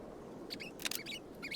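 A pet bird gives a few brief, high, squeaky chirps in quick bursts, fairly faint over a low indoor hum.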